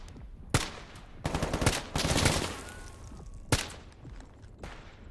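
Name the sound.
gunfire from the video game STALKER GAMMA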